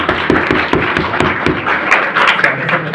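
Audience applause for a teacher at a coaching class, a steady patter of many hands clapping for about three seconds, fairly close and loud, with a few louder individual claps standing out.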